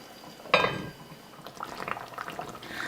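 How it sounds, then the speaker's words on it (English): Pot roast liquid in a pot comes to a boil, starting with a sharp clatter and then soft bubbling and simmering gurgles close by. "So now that it has come to a boil"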